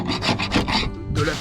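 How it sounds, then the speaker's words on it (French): Scraping glue off a wooden boat deck by hand, a close, loud, rough rasping in quick repeated strokes, with a brief pause before the last pass. "déjà je gratte la colle au maximum"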